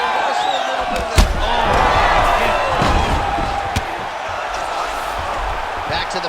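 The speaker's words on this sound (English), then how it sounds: "the crowd continues to react with every passing land" A roaring arena crowd in the UFC 5 fighting game, a continuous loud wash of cheering and shouting with a few sharp impact thuds cutting through, while a commentator speaks over it.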